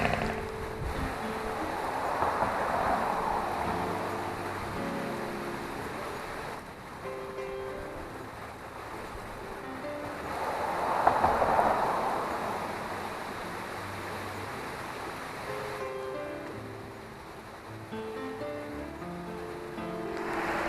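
Strong wind buffets the microphone at a river spillway, a steady broadband roar with surging gusts and water rushing underneath, no talking.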